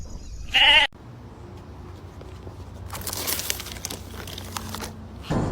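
A sheep gives a short, loud, nasal bleat near the start, followed by quieter crinkling rustle and background noise, with another brief loud burst at the very end.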